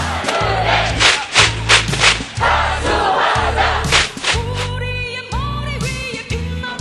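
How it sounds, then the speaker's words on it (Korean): Crowd of about eight thousand Korea Exchange Bank union members shouting in unison at a rally in Yeouido, Seoul, opposing the Hana Financial takeover; loud rhythmic chanted bursts over steady drumming or thumping. "여의도에 울려 퍼진 외환은행 8천 동지들의 함성"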